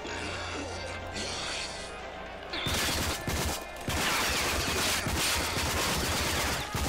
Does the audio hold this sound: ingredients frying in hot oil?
no